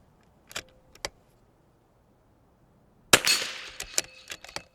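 Several .22 LR rifle shots fired at a target: two short cracks, a pause, then a louder crack followed by a quick cluster of shots, close range with no talking.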